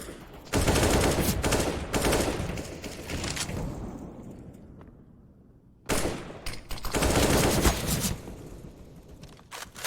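Counter-Strike: Global Offensive gameplay gunfire from a Desert Eagle and an M4, loud rapid bursts and shots in two dense clusters separated by a brief quieter lull, with no talking.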